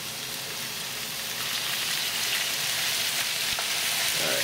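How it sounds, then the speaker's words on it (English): Carbonara pasta ingredients sizzle and fry in oil in a pan, a steady close crackling hiss that grows slightly louder toward the end, with no talk. "You can hear it really sizzling now."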